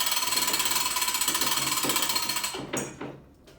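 A drywall lift winch is cranked upward, producing a rapid, even ratchet-pawl clicking up close that runs steadily and then slows into a few final clanks.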